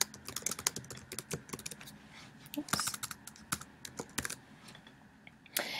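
Typing on a computer keyboard while entering an assignment title: quiet, irregular clicks and key taps in quick bursts, with a brief spoken word partway through.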